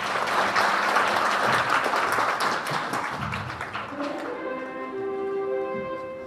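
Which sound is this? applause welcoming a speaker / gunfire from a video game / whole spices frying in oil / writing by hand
applause welcoming a speaker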